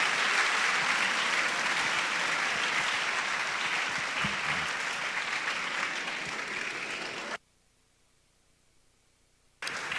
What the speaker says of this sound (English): another round of applause for our lecturer